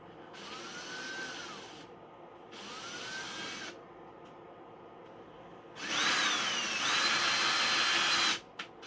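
A power drill boring holes into a habitat module: repeated bursts of a high, revving whine with a rising pitch sweep, each a second or two long with short pauses, then a louder, longer burst, close and alone.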